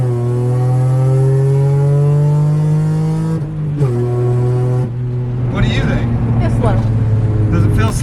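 A Honda car's engine drones loud and close from inside the cabin, its pitch climbing steadily as it accelerates, then dropping with gear shifts and rising again while people talk over it.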